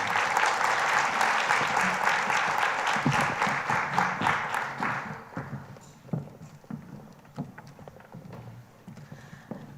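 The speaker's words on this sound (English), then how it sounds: "Good round of applause." An audience at an event on supporting immigrant children gives a round of applause. Dense, full clapping holds for about five seconds, then thins into scattered individual claps that fade away.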